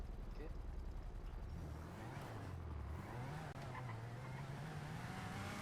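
A car driving toward a parking lot in the GTA 5 video game, engine revving and shifting pitch with some tire squeal, while players talk over it.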